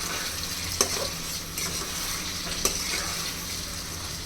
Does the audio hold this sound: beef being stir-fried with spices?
yes